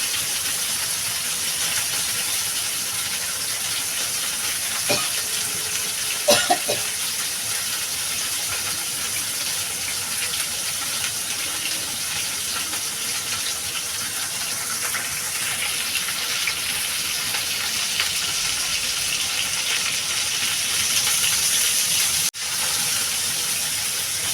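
Bitter gourd and potato curry fries in a pan, giving a steady, loud sizzling hiss that holds evenly for the whole stretch, with a few faint clinks and no talk.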